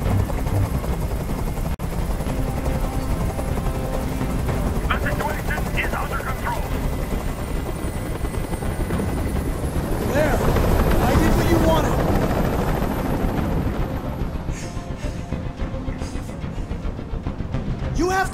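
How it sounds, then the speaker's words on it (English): A helicopter hovers close by during a hostage standoff in Detroit: Become Human, a loud, continuous rotor roar with bursts of rapid gunfire-like clatter and rising whine, swelling midway before easing off. "Tell that helicopter to get out of here."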